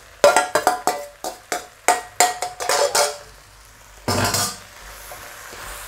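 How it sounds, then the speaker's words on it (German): Soaked soy mince is stirred and fried in a pan, with a quick series of scraping, clinking utensil strokes against the pan followed by a softer sizzle. "Das Ganze braten wir jetzt einfach ein bisschen mit an."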